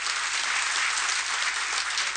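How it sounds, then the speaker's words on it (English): An audience at a conference panel session on European neighborhood policy claps loudly and steadily, a dense sustained round of applause with no voices heard. "Would you please join me in giving our panel a huge round of applause?"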